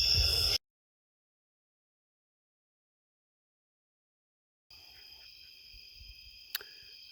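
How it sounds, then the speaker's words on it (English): Crickets chirp over a bed of cicadas in the wilderness, a steady high buzzing drone that starts briefly, drops away into silence, then returns and continues to the end. "Bob, when you can hear the crickets over the cicadas, I love that, man."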